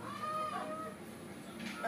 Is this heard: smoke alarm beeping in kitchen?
no